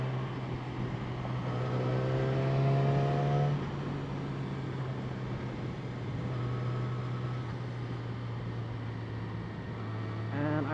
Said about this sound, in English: It has a very beautiful exhaust note.